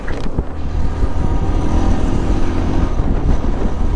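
A motorcycle cruising at 72 km/h on an open road in India, a loud steady engine drone mixed with heavy wind rush that stays constant throughout, with no talk.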